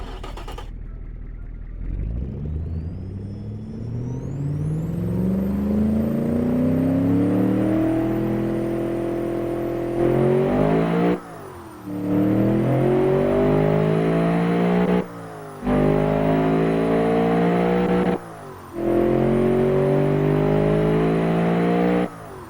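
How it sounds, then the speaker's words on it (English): Compact single-turbo V8 in a racing video game revving hard, the pitch climbing in long sweeps with brief lifts between pulls, loud and close with no talk. "a tiny compact V8, and it sounds really good"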